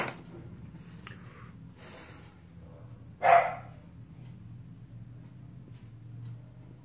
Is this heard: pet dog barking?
yes